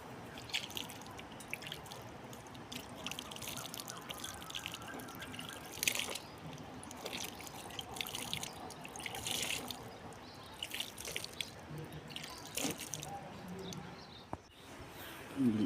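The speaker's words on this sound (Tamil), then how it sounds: "இதுக்கு வந்து தண்ணி ஊற்றிடுவோம் இப்போ" Water is poured onto newly planted sugarcane on a rooftop terrace. It is a quiet, continuous trickle with scattered drips and splashes, close by and fairly faint.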